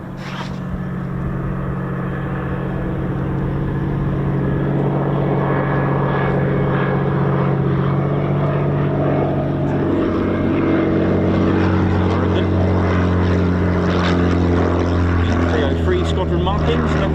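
Battle of Britain Memorial Flight bomber passing over RAF Coningsby, its propeller engines producing a loud, steady droning roar with layered harmonic hum that swells slightly as it continues, with people talking nearby.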